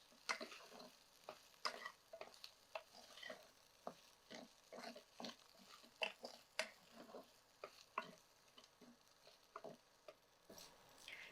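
Masala sago upma being stirred as it fries in a pan, with soft sizzling under a steady series of scraping, stirring strokes, close and fairly quiet.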